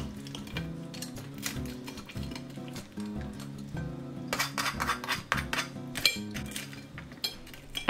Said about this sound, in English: as you can hear, the cracklings are just perfectly crispy